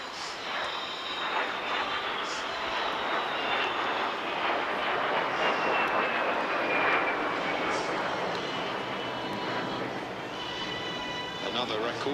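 A de Havilland Vampire jet flies past at the Clacton Airshow, its sustained engine roar sweeping steadily overhead with a slowly shifting whine, loud and continuous, with voices audible beneath.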